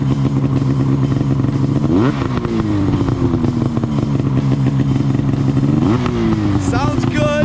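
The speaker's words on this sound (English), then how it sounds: "Let's rev it up a little bit." A snowmobile engine idles loudly up close with a steady rough drone, then revs twice, its pitch rising sharply each time before dropping back to idle.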